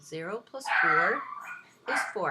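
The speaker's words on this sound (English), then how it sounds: "Please excuse the dog." A dog barks and yips in short bursts, close and loud, breaking in between stretches of a man's speech.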